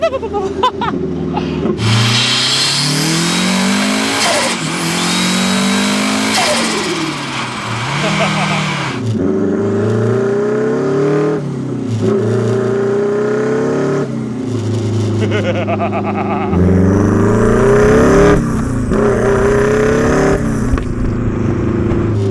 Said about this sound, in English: Oh, the turbo noises.